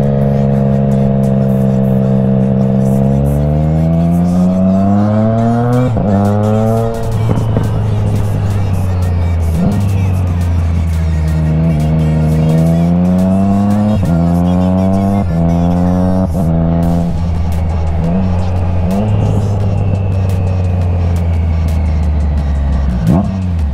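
A loud Triumph Trident 660 motorcycle with a full aftermarket exhaust revs and climbs through gears repeatedly, its raspy drone rising and dropping with sharp pops between shifts.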